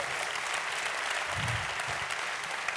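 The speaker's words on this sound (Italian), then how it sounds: "Applauso forte." An audience at the Tulipani di Seta Nera 2018 international short film festival awards applauds a prize winner, giving a full, continuous round of clapping that holds steady throughout.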